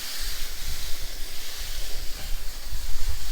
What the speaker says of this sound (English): So we're just giving it a really good rinse.